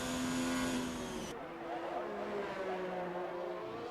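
A race car in a PS4 racing game laps Silverstone, its engine note holding a high whine before dropping sharply, then droning on with shifting pitch as it pulls away, moderately loud with no voices.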